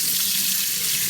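Tap water runs steadily into a kitchen sink while pork neck bones are rinsed, a continuous close splashing hiss with no pauses and no voices.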